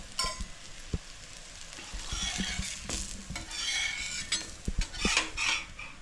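Methi rotlo cooking in oil on a griddle, with sharp close taps and scrapes over a low sizzle that swells and fades in bursts, alone.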